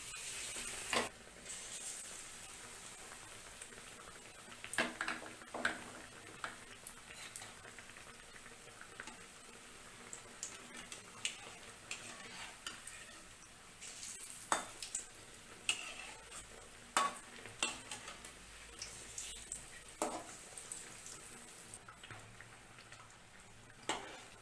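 Stuffed bread bajji, bread dipped in batter with a potato filling, frying in hot oil, with a steady bubbling sizzle and scattered crackles and pops over a long stretch, close and without talking.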